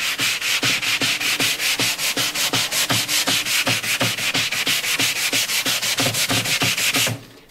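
Sandpaper rubs along the edge of a glued wood veneer sheet in quick, regular back-and-forth strokes, a close, crisp rasping rhythm that stops abruptly at the end, with no voices.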